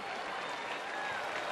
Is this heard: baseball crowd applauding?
yes